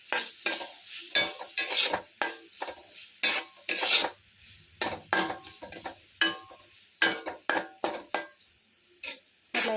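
Two spoons of masala spice being stirred and mixed in a frying pan, a rapid series of close scraping strokes and clinks with a light sizzle underneath, repeating steadily throughout.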